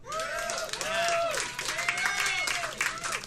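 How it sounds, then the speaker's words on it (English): A pub audience at a live show gives scattered applause for a performer named Mitchell, with voices and cheering calls rising over the clapping. "Round of applause for Mitchell."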